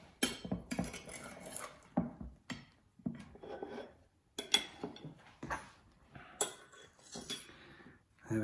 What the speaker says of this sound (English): Right, let's cut a slice. Nice big wedge for me.